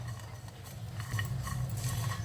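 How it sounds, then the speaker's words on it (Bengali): Sesame seeds dry-roasting in a kadai before being ground to powder give a soft, continuous scraping of stirring over a low steady hum, with light crackle. "তিলটা আমার আর একটু ভাজা হয়ে যাক"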